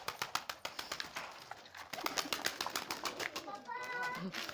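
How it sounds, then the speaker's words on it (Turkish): Şebap pigeons on a rooftop coo softly and flutter in the background while people talk nearby, with a faint rustle of wings. "Bu şebap güvercini"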